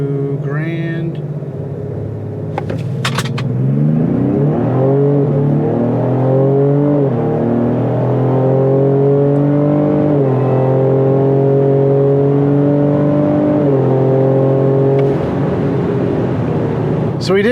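A 2025 Ford Explorer ST in sport mode pulls hard on a timed acceleration run. The engine note climbs in rising sweeps through several gear changes, loud and steady inside the cabin, with brief talking near the start.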